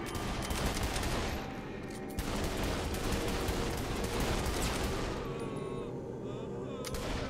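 Pistol gunshots aimed at zombies in Saints Row: The Third ring out amid dense, noisy combat, dull thumps buried in a continuous loud wash of action sound.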